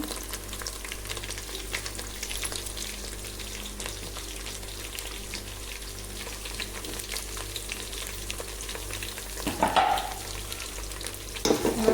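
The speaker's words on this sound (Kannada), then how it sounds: "ಇದನ್ನ ಹಾಕಿ ಮಿಕ್ಸ್ ಮಾಡಿ ಇದೊಂದು ಎರಡು ನಿಮಿಷ ಫ್ರೈ ಮಾಡೋಣ" Chopped green chillies fry with already browned onions in a pan, giving a steady close sizzle with soft crackles, then a burst of stirring and scraping near the end.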